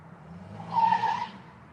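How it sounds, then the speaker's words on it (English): A loud car motor swells briefly in a short rising roar with a squealing edge, passing close by and then fading, heard alone without talk. "put that loud ass motor on their car"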